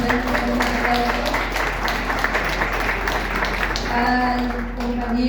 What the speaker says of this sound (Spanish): también un aplauso